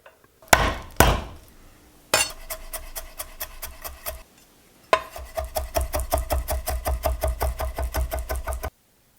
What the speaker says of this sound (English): Once I've done that, I give it a good fat whack, just like our friend Jacques Pepin would